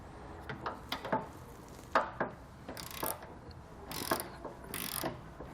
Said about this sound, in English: So you're going to want to tighten these down next